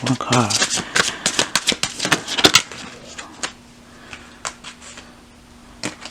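Tarot cards shuffled and drawn by hand, quick papery riffles and snaps clustered early then sparser flicks, with a person speaking over them.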